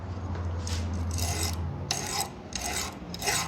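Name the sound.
sanding plastic car key shell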